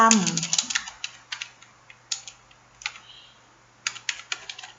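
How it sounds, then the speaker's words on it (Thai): Fingers type on a computer keyboard while a description is entered in accounting software, giving a string of close, crisp key clicks in irregular bursts and pauses. A brief voice is heard at the very start. "จากนั้นก็พิมพ์คำอธิบายไปว่า"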